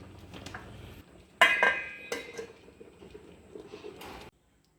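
A metal lid is set onto a pot of cooking wheat rava upma, giving a sharp clink and rattle followed by a few lighter knocks, close and fairly quiet.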